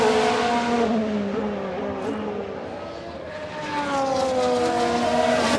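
A Ferrari Formula One car racing in F1 Manager 22, its engine a loud, sustained high-pitched whine with sweeping pitch changes as it passes, nearby and continuous throughout.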